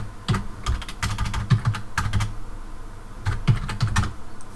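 Keys clatter on a computer keyboard as code is typed for an Android 4.0 app menu, in close, uneven bursts of rapid keystrokes with short pauses between clusters and no talking.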